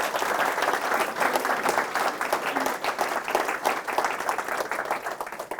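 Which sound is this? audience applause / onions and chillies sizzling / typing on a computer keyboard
audience applause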